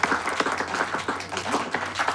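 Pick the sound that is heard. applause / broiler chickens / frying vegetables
applause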